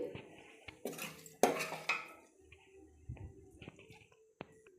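Spoon scraping and clinking against a plate while bottle gourd pickle is served, a few sharp close taps and scrapes at an uneven pace, with quieter handling in between.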